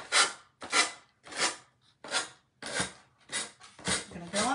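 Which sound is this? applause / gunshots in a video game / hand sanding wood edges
hand sanding wood edges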